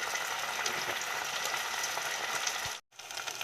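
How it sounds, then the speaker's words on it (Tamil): Ginger garlic paste frying with onion, tomato and green chilli in a pan for a spicy Tamil fish curry, a steady close sizzle throughout that cuts out sharply near the end and then resumes. "கொஞ்சமாக இஞ்சி பூண்டு பேஸ்ட் போட்டுக்கலாம் பச்சை வாசனை போகிற வரைக்கும் இதோடு சேர்ந்து நல்லா வதங்கும்"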